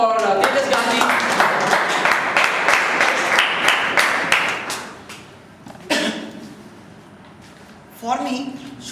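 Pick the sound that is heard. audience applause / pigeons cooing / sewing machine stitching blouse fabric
audience applause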